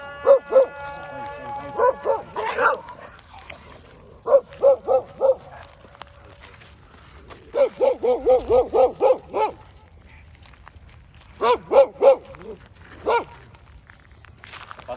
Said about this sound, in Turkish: arkadaki köpeği çağırıyor